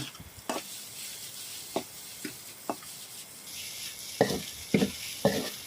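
A steady sizzle from a hot pan stir-frying egg fried rice with a handful of scraping stirs, a few spatula strokes coming in quick succession toward the end.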